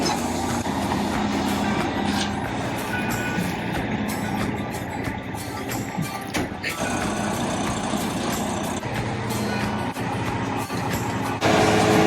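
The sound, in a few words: concrete truck engine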